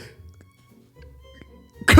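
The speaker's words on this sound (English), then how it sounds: "there's someone sneezed" A single sharp sneeze bursts out loudly at the very end, after a quiet stretch of faint background murmur.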